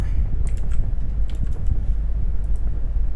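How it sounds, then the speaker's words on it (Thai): Keys are typed on a computer keyboard in quick, uneven bursts of clicks close to the microphone, with a steady low hum underneath and no speech. "เห็นกูพิมพ์มั้ย่ะ"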